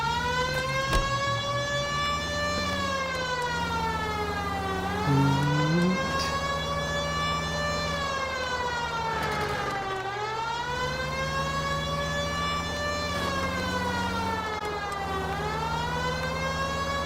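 Police car sirens wailing in LA Noire, a loud, continuous siren that sweeps up and down in slow repeating cycles, with an engine rumbling steadily underneath.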